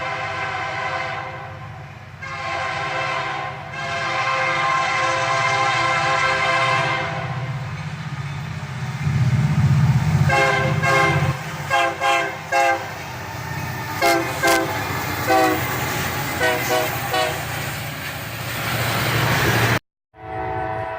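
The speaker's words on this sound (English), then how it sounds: "and we got a pretty nice horn show" A Union Pacific freight train on a summer evening sounds its horn in long, loud blasts over steady rail rumble and wheel clatter, then a burst of rhythmic clicking as cars roll past before a sudden cutoff.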